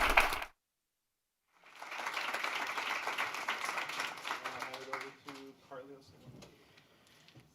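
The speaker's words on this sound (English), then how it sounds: "Please give a round of applause to our amazing panelists" After a brief silence, an audience claps for panelists at a career-pathways panel event, a moderate burst of applause that tapers off as a voice begins talking over it.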